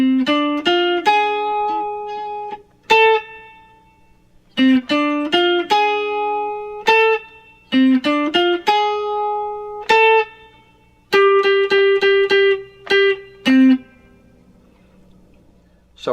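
An electric guitar plays a song melody in short phrases of clean plucked notes, some ringing longer, separated by brief pauses, close and alone.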